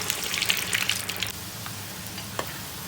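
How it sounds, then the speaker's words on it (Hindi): Potato pieces fry in hot oil in a pan, a close, steady sizzle that is busier and louder at first and then settles into a softer, even crackle. "तो अब इसमें हम एक आलू डाल के चेक करते हैं कितना भी गर्म है ऑयल"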